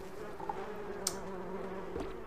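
Bees buzz in Donut County, a video game set in a forest, making a steady, close, droning hum that holds for the whole stretch with slight wavering in pitch.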